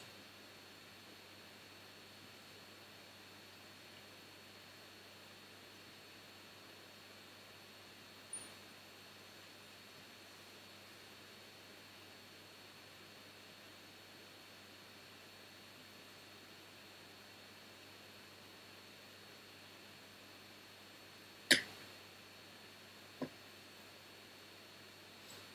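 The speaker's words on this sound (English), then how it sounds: "A lot of background white noise. The fans are running in the background." Steady broadband hiss of computer fans running in a room, a constant low background noise alongside a laptop, with a couple of brief sharp clicks near the end.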